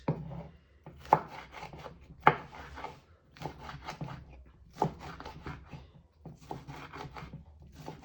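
Red capsicum being chopped on a board with a knife, a series of crisp, irregular chops close by, spaced out with short pauses between bursts.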